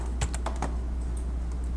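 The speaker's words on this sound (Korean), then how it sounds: "하나 누르고 컨트롤 누른 상태에서 클릭" Key presses and mouse clicks on a computer while selecting several JPG files in Photoshop CC, with Ctrl held down: about six crisp, close clicks in a quick irregular burst, then a few fainter taps over a steady low hum, no talking.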